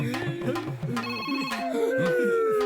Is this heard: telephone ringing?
yes